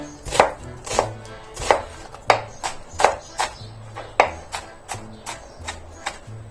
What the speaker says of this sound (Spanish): Un corte en el medio, a lo largo, para que se nos quede de base. Y la giramos, la volvemos a cortar.